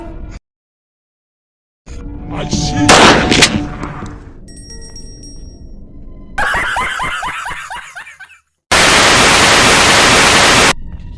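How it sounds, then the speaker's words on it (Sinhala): Gunfire in the horror video game Granny Chapter Two, loud sharp blasts amid harsh game noises, static-like bursts and crackling, with a long loud noisy burst near the end. "කවුද යකෝ වෙඩි තිබ්බ එක"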